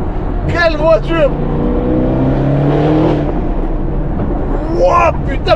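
Up close, a half-yellow, half-black Mansory Bentley roars loudly with a sustained revving engine whose pitch climbs and settles, while excited voices shout over it at the start and end.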